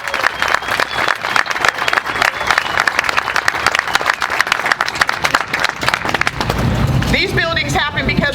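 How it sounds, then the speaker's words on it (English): Loud, sustained applause from an audience honouring donors at a groundbreaking for a new technical education building, dense clapping that swells with crowd noise and cheering near the end. "I'd like you to stand up and be counted so we can applaud you for your support"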